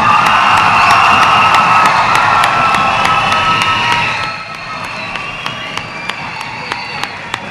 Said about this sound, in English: let's all give Mrs. Bornacek and Mrs. Reese a loud round of applause for their efforts